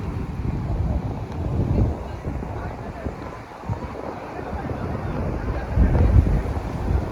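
Sea waves wash in on Kashid beach as the tide rises, a steady rushing surf with wind buffeting the microphone throughout and swelling near the end.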